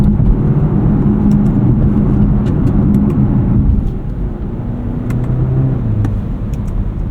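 A 2024 BMW 530i xDrive sedan launches hard, its engine droning loud and steady from inside the cabin, the pitch dipping briefly as a gear change comes through midway before climbing again.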